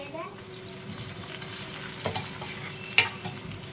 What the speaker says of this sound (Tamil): ஓகேங்களா கொஞ்சம் நேரம் ஃப்ரை ஆகட்டும்